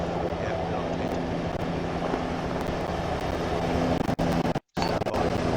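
Helicopter arriving to land in Arma 3, a steady loud rotor and engine roar throughout, with a brief dropout near the end and no clear talk over it.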